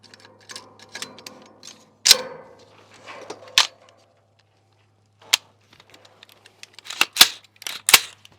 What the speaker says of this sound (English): we got our bolt carrier group back in. We've loaded a magazine.